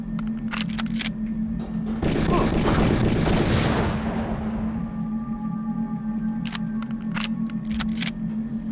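An assault rifle fires grenades in the video game Deus Ex: a loud, dense two-second blast with a rumbling tail that fades out, set among sparse sharp clicks and a steady low hum.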